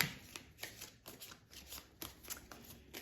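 Tarot cards being shuffled by hand, a soft close rustle of repeated riffles and taps in an uneven rhythm, alone and fairly quiet.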